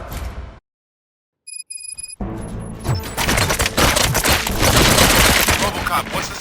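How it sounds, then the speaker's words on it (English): Gunfire erupts in the Robocop Rogue City video game: after a brief silence and some electronic beeps, dense rapid shots and bursts build into a loud, sustained fusillade. "Gunshots? What's going on?"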